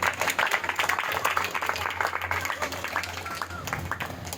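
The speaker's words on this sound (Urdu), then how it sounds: "آپ نے خوبصورت تالیاں پہلے ہی بجا" A church congregation claps together in a dense, steady burst of applause close around, with a low hum underneath throughout and no voices standing out.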